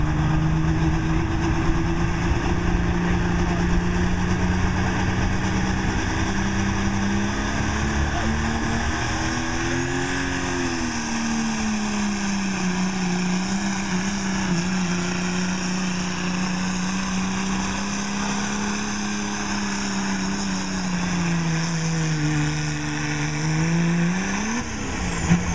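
A 1994 Dodge truck roars under heavy load while pulling a sled at a county fair truck pull, its deep engine drone sustained and loud for the whole stretch, pitch rising and dipping as it strains down the track.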